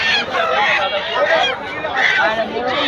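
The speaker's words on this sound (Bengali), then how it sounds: "পাশে আরো মুরগি আছে আমরা দেখতে পাচ্ছি।" Chickens and ducks at a busy poultry market cluck, squawk and honk continuously close by, mixed with the babble of a crowd of people talking.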